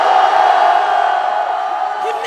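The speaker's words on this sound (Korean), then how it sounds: "우리의 함성이 들리십니까?" Outdoor political rally crowd at a march toward the National Assembly, a loud, dense wash of many voices shouting and cheering continuously, sustained and slowly easing off slightly toward the end.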